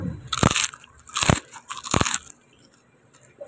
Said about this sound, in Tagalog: Unang kagat ng chicharon.